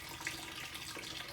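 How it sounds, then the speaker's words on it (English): Water runs from an outdoor spigot in a steady, soft hiss, quiet and unbroken. "So let's get the water going."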